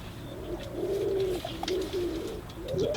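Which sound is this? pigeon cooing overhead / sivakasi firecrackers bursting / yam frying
pigeon cooing overhead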